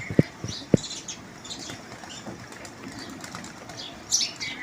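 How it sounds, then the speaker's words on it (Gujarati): Wings of pigeons flap in a couple of quick bursts, then soft pecking and rustling with faint chirps as they feed on scattered grain nearby; a brief flutter returns near the end. "કબૂતર આવી ગયા છે શેણ ખાવા આજે"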